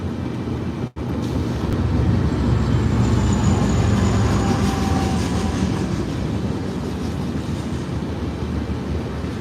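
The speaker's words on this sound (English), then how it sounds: "Oh, another train." A train passes steadily nearby, a loud continuous rumble with rhythmic clatter and rushing wind noise holding for several seconds after a brief dropout near the start, with no talking.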